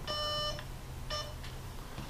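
A longer electronic beep followed by a shorter one from an airsoft M4 gearbox control unit, clear and close, with faint clicks and a low hum underneath.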